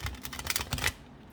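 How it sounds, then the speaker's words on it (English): Tarot cards being shuffled by hand, a quick run of dense papery riffling and slapping lasting about a second before falling silent. "Let me shuffle again."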